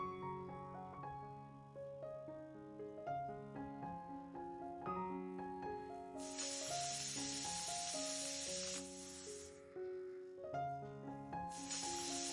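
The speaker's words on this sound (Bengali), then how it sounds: "এবার ঢেকে আমি 4-5টা সিটি দিয়ে নেব।" A pressure cooker whistles in sharp hissing bursts while mutton curry cooks with hot water, two long jets of steam venting over steady background music.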